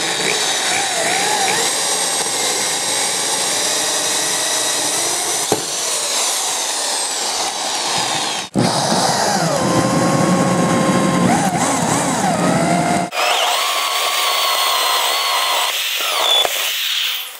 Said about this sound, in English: let's drill some holes and put 4 bolts in this little baby